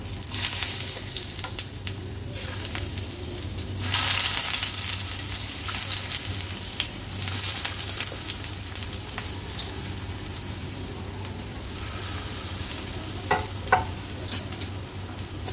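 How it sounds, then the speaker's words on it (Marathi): Pieces of boiled suran (yam) fry in ghee on a hot griddle with a steady soft sizzle. Occasional stirring and scraping sounds come through close up, and no one speaks. "नंतर हे आपण उकडवून घेतलेले सुरणच्या फोडी आहेत ना ह्या तुपावर सोडूया"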